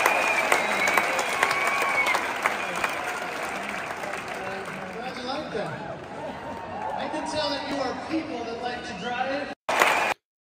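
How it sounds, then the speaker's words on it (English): Enormous stadium crowd at a Trump rally cheering and applauding, a dense, loud roar with shouts and chanting voices throughout, ending abruptly with a short cut. "Take a look at this enormous crowd at this stadium last night."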